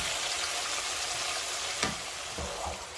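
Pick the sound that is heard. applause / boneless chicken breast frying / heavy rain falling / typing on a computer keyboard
boneless chicken breast frying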